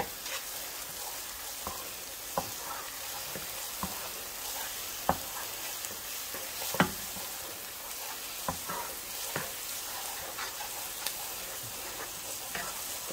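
Meatballs sauté in olive oil in a pan, giving a steady, close sizzle with scattered sharp pops and spatters throughout, and no talking.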